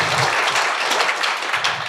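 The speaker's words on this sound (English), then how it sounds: "can we give a round of applause to them?" A live audience claps together in a sustained round of applause at a marketing seminar, dense and even throughout, easing off slightly near the end with no voices over it.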